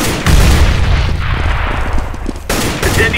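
A grenade detonating in the video game Counter-Strike: Global Offensive, a loud, close, rumbling blast that fills nearly the whole moment with heavy low booming.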